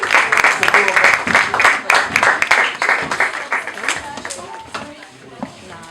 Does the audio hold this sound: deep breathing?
no